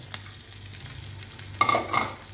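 Green chillies frying with reddened garlic and peanuts in oil, a faint low background at first, then a brief burst of crackling sizzle and stirring scrapes near the end, close by, with no speech.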